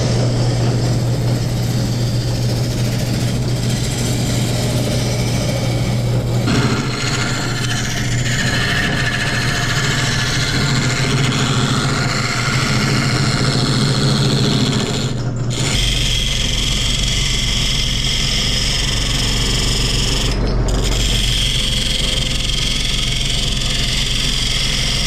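A wood lathe spinning a cherry log at its lowest speed gives a steady, continuous mechanical drone with a low hum, close and loud throughout, with a brief shift partway as the tone changes.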